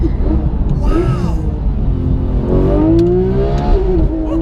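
Porsche GT3 engine revving hard on board, a loud rising and falling engine whine with shifting pitch, heard from inside the car under road noise, with a voice speaking briefly.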